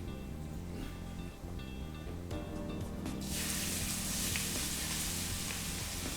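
Onions frying in a pan for veg diwani handi, a soft steady sizzle with faint clinks early on, swelling into a brighter, fuller hiss as cooking continues.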